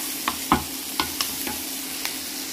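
Salty lardons fry in a pan, a soft sizzle with several distinct scraping knocks from stirring spaced out across the moment.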